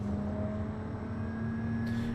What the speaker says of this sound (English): No, let's just listen to the engine.